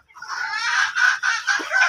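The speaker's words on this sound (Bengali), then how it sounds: "এই ডিম দিচ্ছে মুরগিগুলা" Laying Fayoumi hens cluck steadily and close by on a farm, a busy overlapping chatter from several hens with no pauses.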